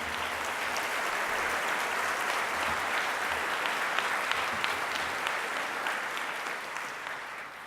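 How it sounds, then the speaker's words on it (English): Steady, fairly distant applause from a crowd at a Sydney Armenian Genocide commemoration, sustained clapping for several seconds that tapers slightly at the end. "A round of applause for Christina, for Trent, for Jason"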